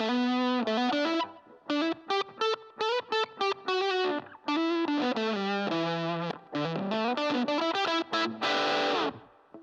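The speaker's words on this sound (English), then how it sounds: "it's just adding this kind of slap to the left, a sort of spring reverb to the right" Solo electric guitar phrase run through slap delay and spring reverb, a quick melodic line of plucked notes and short bends with echoing, wet tails between phrases.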